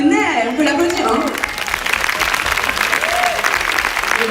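An audience at a Breakthrough presentation applauds a Belgian DJ, steady dense clapping that runs loud throughout, with a voice speaking over the start.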